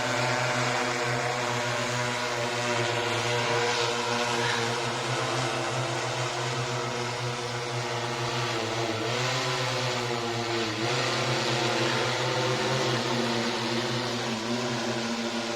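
An agricultural drone sprays pesticide over a farm field with a loud, continuous, multi-tone rotor whine. The pitch wavers slightly throughout, and no voices are heard.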